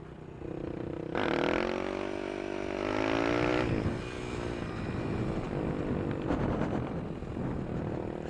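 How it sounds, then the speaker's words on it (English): Supermoto motorcycle pulling a wheelie, its engine revving hard and rising in pitch as the throttle opens, then easing and surging again in loud, close bursts with no talk. "Hey, dude, want to see a wheelie?"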